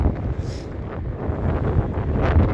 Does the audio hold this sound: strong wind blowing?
yes